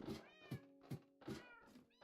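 Minecraft cats meow in a quick series of about five short, clear, high-pitched calls, close and alone with no talking.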